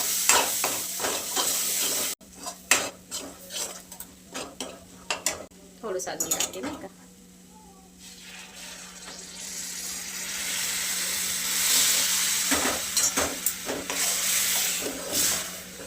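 Sizzling masala sautéing in oil in a pan with a spoon scraping and stirring, a brief spoken remark, then a steady loud hiss of cooking.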